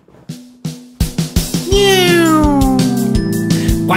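A cat meows several times in quick short calls, then lets out a long drawn-out meow, close and loud over a background tone.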